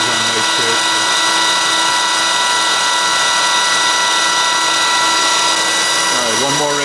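The table of an Eldorado-Miroku MEG-300-2 twin-spindle CNC knee-type gun drill traverses fast, giving a loud, steady mechanical whir and whine, with brief pitch shifts near the start and end as it changes motion.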